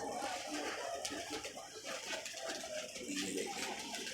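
Pigeons cooing softly amid a dense, noisy outdoor backdrop at a rooftop pigeon loft, steady throughout with no distinct foreground calls.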